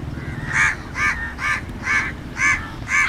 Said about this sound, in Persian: صدای کلاغا رو میشنوید؟